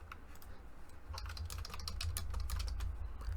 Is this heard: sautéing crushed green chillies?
no